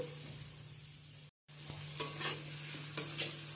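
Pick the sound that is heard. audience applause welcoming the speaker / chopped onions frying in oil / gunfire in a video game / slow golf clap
chopped onions frying in oil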